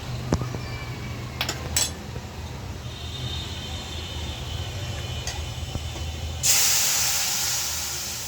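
Lentils are dropped into a pan of fried onions after a few light utensil clinks, setting off a sudden, loud burst of hissing sizzle that slowly eases while it continues.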